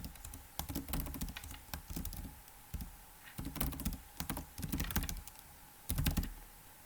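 Someone types on a computer keyboard in quick, irregular bursts of close, clicky keystrokes to fill out an online form. Short pauses separate the bursts, and no one speaks.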